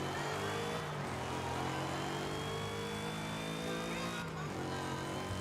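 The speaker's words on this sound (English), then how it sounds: "Oh, this car's engine sound is amazing." Car engine in the Forza Horizon 5 racing game during a winter festival playlist event, a steady loud drone with rising tones as it revs, continuous under a music-like background.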